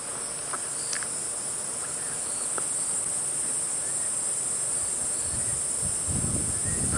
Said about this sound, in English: And those are little cicadas making that noise.